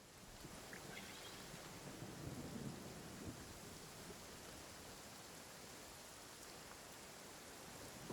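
Steady rain hisses continuously throughout in Genshin Impact, with a soft low rumble of distant thunder swelling briefly near the middle. No voices.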